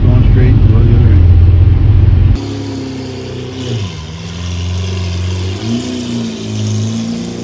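A Lamborghini Aventador launches hard from a standstill, a loud deep roar at first that drops to a steady rising engine drone as it pulls away, with some talk over it.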